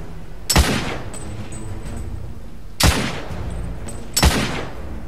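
Three loud, sharp sniper rifle shots ring out in The Order: 1886, each a sudden crack with a decaying tail, spaced about two seconds apart over a steady low battle ambience.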